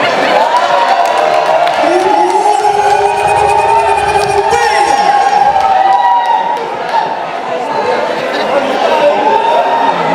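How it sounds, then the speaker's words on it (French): An audience at a speaker's address in Rouen breaks into sustained applause and cheering, a dense continuous roar of clapping with shouts mixed in, close and loud throughout. "Encore des applaudissements"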